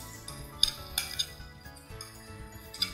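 Potatoes are stirred in a pan together with calamari and colored peppers, giving a run of scraping utensil strokes and light metallic clinks against the pan, close and fairly quiet, with no voices.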